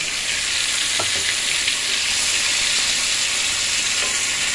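Spice masala with ginger-onion-garlic paste and tomato frying in a pan, a loud steady sizzle and hiss that runs the whole time with faint stirring scrapes underneath, no voices.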